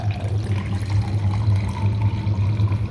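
Milk being poured in a steady, continuous stream, a close liquid trickle with a low hum underneath and no talking.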